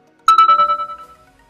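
A notification bell sound effect rings out as a single bright chime, followed by a quick run of fading echoes that die away within about a second.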